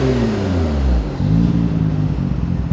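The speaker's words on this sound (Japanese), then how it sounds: "じゃあちょっとアクセル開けますよ。" A Nissan Skyline GT-R R33 V-spec with an RB engine, light tuning, R34 turbos and a 90 mm exhaust pipe revs up loudly and close by, a deep droning roar that dips briefly before rising again.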